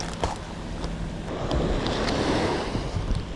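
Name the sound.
ocean waves breaking on shore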